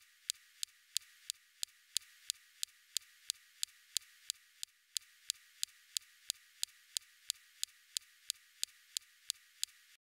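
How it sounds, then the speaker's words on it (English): Perseverance rover's laser zapping rocks on Mars: a long, steady train of sharp, evenly spaced clicks, about three per second, crisp and bright against a quiet background with no other sound. "Here's the sound of the laser zaps on Mars rocks."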